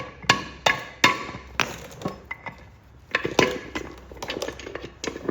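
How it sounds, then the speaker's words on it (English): A brass hammer strikes a Land Rover 88-inch gearbox part, the piece that sits on the main shaft, giving a series of sharp metallic knocks at an irregular rhythm, close and fairly loud, with no talking. "Brass hammer."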